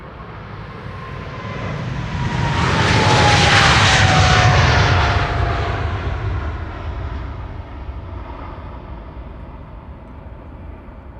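A KLM Boeing 777-300 airliner at Schiphol Airport roars past with its jet engines, swelling to a loud peak and slowly fading with a descending whine, heard alone without talk.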